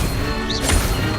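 Incendio fire spell cast in Hogwarts Legacy, a short crackling burst with a whooshing flare, followed by a low thud, set over a continuous game ambience.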